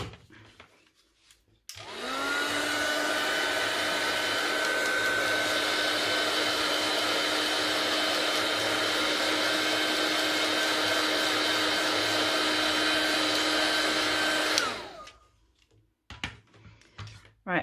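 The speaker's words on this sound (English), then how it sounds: "So I'm just going to try with the heat tool again." Heat tool blows steadily for about thirteen seconds while drying a handmade Christmas card, a loud continuous whine and rush of air starting abruptly and cutting off cleanly, with a few faint handling noises before and after.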